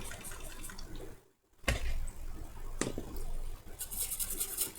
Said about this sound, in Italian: Spruzzatina di alcol isopropilico.